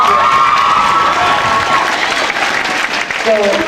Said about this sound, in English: let's give a round of applause right now.